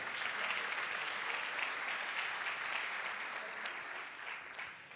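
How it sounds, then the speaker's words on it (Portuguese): A church congregation breaks into loud, sustained applause during a sermon on leadership, a dense continuous roar of clapping that tapers slightly toward the end, with no talking over it. "Aplauda Jesus."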